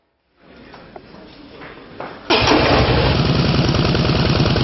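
A pricey motorcycle offered for rental starts: faint cranking and clicks over a low hum, then the engine catches abruptly and settles into a loud, steady, close idling rumble.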